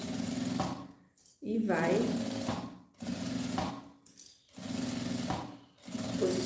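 A sewing machine stitches along the edge of a handbag strap in quick bursts of whirring, broken up by short pauses, while someone talks between runs.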